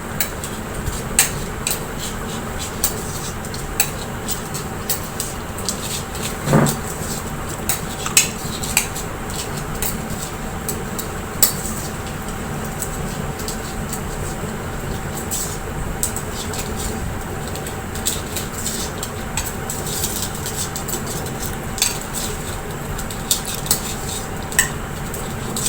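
Cashews, raisins and cardamom are stirred together in a bowl for a fire-less dish, with steady clinks and scrapes of a spoon against the dish over a constant background hum, close and moderately loud throughout.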